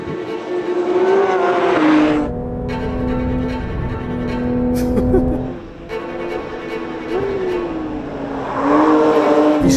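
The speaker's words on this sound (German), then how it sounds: "Jetzt geht's im Mantai GT3 mit 510 PS und 470 Newtonmeter auf die Strecke." Porsche 992 GT3 Manthey Racing with 510 hp on a race track, its engine screaming near and loud through rising and falling revs, with gear shifts and a brief dip before climbing again.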